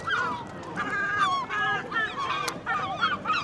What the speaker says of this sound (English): there's seagulls everywhere around here